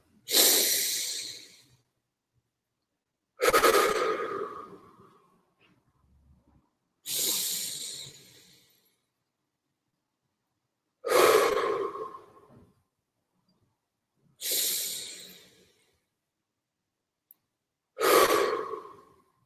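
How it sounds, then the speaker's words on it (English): A group takes six slow, deep breaths together in a guided session. Each long inhale-exhale swell is separated by a few seconds of silence, steady and unhurried, with no talking. "Let's take 3 breaths together"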